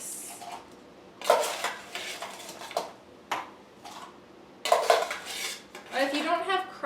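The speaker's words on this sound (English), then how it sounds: "And then add ice." Ice goes into a tiki cocktail glass in a series of sharp clinks and clatters, separate knocks and rattles with short quiet gaps between them, close and fairly crisp.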